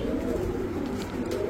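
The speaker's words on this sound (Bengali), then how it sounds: "কালারিং কবুতর আমি সবসময় হাতে নিয়ে দেখাই" A hand-held colour pigeon at a pigeon market gives a continuous low throaty coo, close and clear, throbbing gently through the whole short stretch with no voices.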